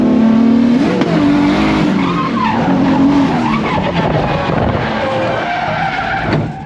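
A four-door BMW E46 drifting at AVS, tires skidding and squealing loudly and continuously as the engine revs, close and sustained for several seconds, no talking.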